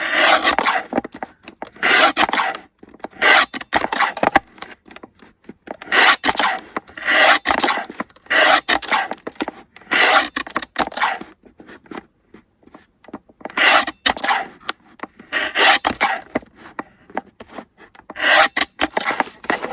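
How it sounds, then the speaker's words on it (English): Paper is sliced into strips for a craft tag, with repeated crisp rasping cutting strokes in bursts and short pauses between them, close and clear with no talk. "I'm just slicing up the strips."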